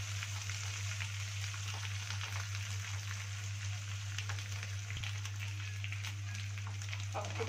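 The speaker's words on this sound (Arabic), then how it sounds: "زي ما احنا شايفين كده بنفضل نقلب فيها لغاية ما تتحمص وتاخد لون حلو" Pieces of taro fry in hot oil in a pan while being stirred, giving a steady dense crackling sizzle with occasional louder pops, close and continuous, over a low constant hum.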